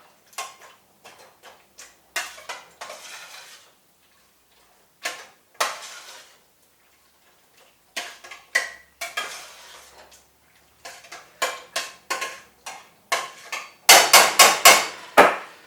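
Vegetables stirred into a pot of Irish stew with a utensil, giving irregular knocks and scrapes against the pot, sparse at first and then louder and quicker near the end, with no talking.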